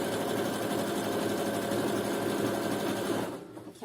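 A sewing machine runs continuously on a zigzag stitch, sewing trim onto a thong, with a loud, close, steady whirring drone that winds down at the end.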